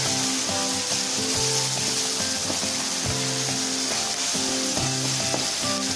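Chutney ingredients frying in a pan, a loud and steady close sizzle with occasional faint stirring clinks, no voices.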